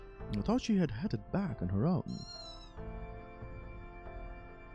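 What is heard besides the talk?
cat meowing in a video game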